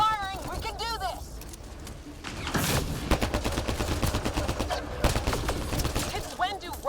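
Rapid video game gunfire, dense bursts of close automatic shots rattling continuously under urgent shouted voices, with whooping electronic warbles near the start and end.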